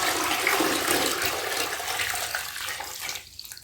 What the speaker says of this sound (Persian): برای بار دوم جوانه ها با آب سرد خیس میخورن.